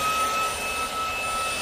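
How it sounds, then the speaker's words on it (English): A Lotus X30 Pro cordless vacuum running on max power gives a steady, high-pitched whine with a thin airy rush behind it. It is close and continuous, with no voices. "Good suction. Good suction. No problem. It's sucking everything up."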